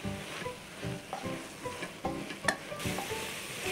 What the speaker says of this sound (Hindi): इसे हमको भूनना है घी में गाजर को इसी तरह से भूनते रहना है